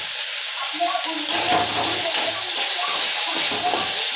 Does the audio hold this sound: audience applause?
no